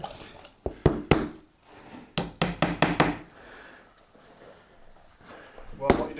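Sharp knocks as material is driven into a wall beside a door casing around loose plaster, several irregular hard taps close by, some in quick bursts, with quiet gaps between them.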